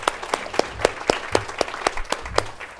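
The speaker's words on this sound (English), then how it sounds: "So please, round of applause to them." Audience applause at a fundraising talk, with distinct claps landing in a fairly regular rhythm and a light background of clapping between them, fairly close and moderately loud.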